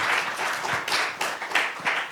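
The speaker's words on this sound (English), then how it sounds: "So, big round of applause." Audience applause at a lecture on independent cinema and curation at a film event, a dense steady wash of clapping with slight swells, fairly close and without speech.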